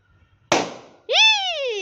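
A single balloon bursts with a sharp, loud pop during a family game, followed moments later by a voice.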